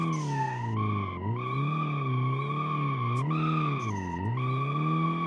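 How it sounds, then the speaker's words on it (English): In the BeamNG driving game, a car drifts on a track, its tires squealing loudly and without break while the engine note rises and falls through the slide, with no voices over it. "we're just gonna continue drifting on track"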